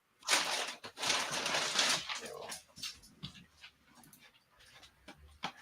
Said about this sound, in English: I need to give my dog a treat. She's staring at me